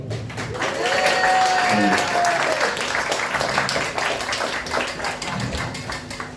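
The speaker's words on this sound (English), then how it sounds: "And applaud me." Audience clapping at a live stand-up comedy show, a sustained, fairly loud round of applause with crowd noise and a faint voice mixed in.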